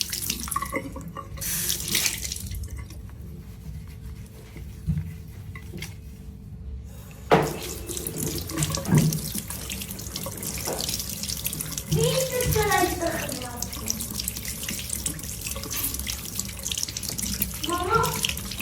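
Water runs steadily from a sink tap, partly hot, while an item is washed and scrubbed by hand, with a continuous splashing hiss, occasional knocks and handling sounds, and voices talking over it.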